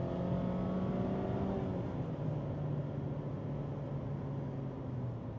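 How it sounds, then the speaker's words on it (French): Engine of a Mazda MX sports car with a short-throw gearbox, a steady droning hum that falls in pitch partway through as if shifting, heard from inside, continuous and moderately loud with no talking. "tu te retrouves constamment à changer de vitesse avec cette boîte de vitesse à course courte"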